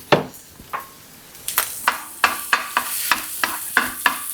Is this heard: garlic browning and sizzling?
yes